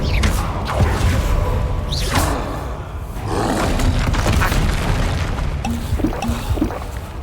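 Roaring, rumbling blast of the Confringo fire spell in the fantasy game Hogwarts Legacy, a sustained loud whoosh and boom with crackling bursts and game ambience, no talking.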